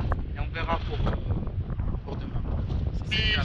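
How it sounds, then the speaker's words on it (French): Strong wind gusts into the microphone at the seaside in Morocco, a steady loud roar filling the whole stretch, with faint voices underneath. "tu sens le vent"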